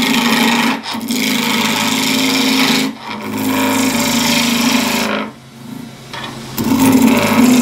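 Tough timber being turned into a scoop on a wood lathe at about 1800 RPM, a steady loud rasping, scraping cut with a humming motor underneath, broken by three short pauses as the tool lifts off.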